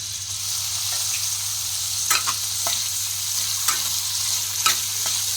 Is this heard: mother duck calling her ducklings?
no